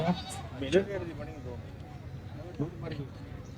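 Brief bleats of a goat cut through a noisy outdoor goat market scene with people talking nearby, a couple of short calls standing out.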